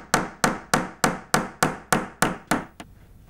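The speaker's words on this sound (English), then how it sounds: "as you drive in the panel pins" A hammer drives small panel pins into a wooden frame for a Japanese screen panel: nine sharp, evenly spaced taps, close and crisp, with a lighter final tap before quiet.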